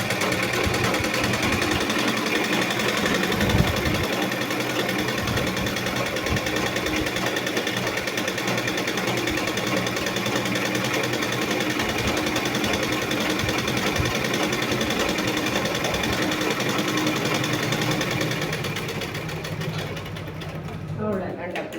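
A sewing machine stitches frills onto churidar pants, running steadily and fairly close for most of the stretch before easing off near the end, with a voice talking intermittently over it.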